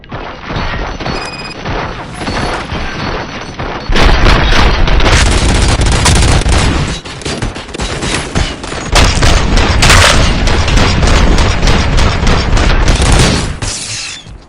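Gunfire and explosions from Robocop Rogue City: dense, loud volleys of shots with crashing booms and impacts, running continuously with only brief dips in intensity.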